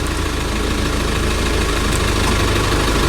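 A 1998 Nissan Elgrand with a 3.2-litre diesel engine idles with the air conditioning running, giving a steady, loud, continuous rumble with no breaks and no talk.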